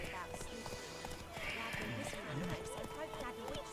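Horse hooves trotting in the Witcher 3 video game, a quick clip-clop beneath someone talking over game music.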